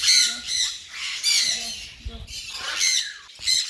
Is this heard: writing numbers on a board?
no